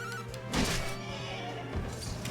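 A horse neighs in Dragon Quest XI S, a loud whinny near the start followed by clip-clop hooves and a shorter cry later, set against steady game music.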